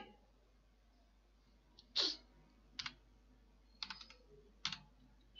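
A handful of separate key clicks from a computer keyboard while QBasic code is typed, sparse and fairly close, with pauses between strokes over a quiet hum.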